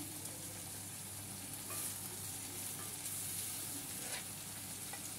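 Banana flower sautés with onion and tomato in a pan for chutney, giving a quiet, steady sizzle with occasional soft stirring sounds and no voices.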